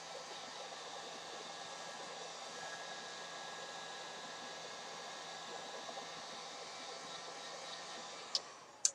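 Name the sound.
heat gun re-warming Worbla armor piece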